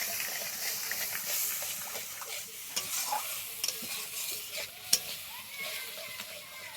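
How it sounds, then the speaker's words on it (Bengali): Masala spices sizzle and fry in a pan with okra and sour curd, a steady soft hiss broken by scraping stir strokes and a few sharp spatula knocks, moderately close. "এবার সব কিছুকে মশলার সাথে খুব ভালোভাবে কষাতে হবে।"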